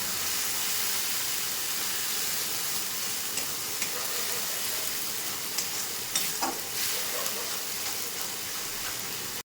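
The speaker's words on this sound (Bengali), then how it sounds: "একটু মিষ্টি ধোয়া জল দিয়ে দিচ্ছি অল্প করে, এটাকে কষিয়ে নেব।" Spice paste for a Bengali rohu fish curry sizzles and fries steadily in a pan, a continuous bright hiss with a few sharper pops and stirring clatters partway through, no voices.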